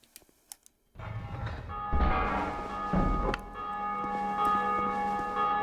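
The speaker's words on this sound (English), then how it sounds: "What does the bell do?" A bell rings in the video game Dark Souls II, a loud metallic clang that strikes, then strikes again with a deep thud and hangs in a long shimmering tone over faint background clicks.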